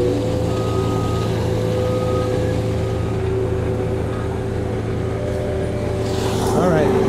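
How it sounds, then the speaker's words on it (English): A snowplow works along a major Toronto street in about -10°C weather, its steady low engine rumble and scraping drone filling the scene continuously and close by, with a brighter burst near the end and a voice talking over it. "I'm covering the snowplow operation on one of the streets of Toronto."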